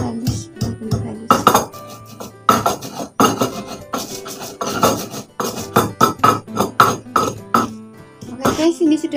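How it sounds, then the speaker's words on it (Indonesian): Coriander seeds and garlic pounded in a mortar and pestle: a steady run of sharp, close clinking and knocking strikes, loud and rhythmic, repeating throughout. "kita ulek semuanya ya sampai halus, benar-benar halus"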